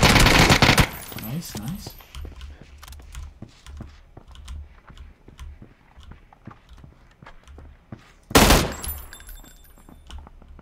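Bursts of automatic gunfire from the online shooter PUBG, a rapid rattling volley at the start and another sharp loud burst later, with scattered clicks and footsteps between and players talking over it.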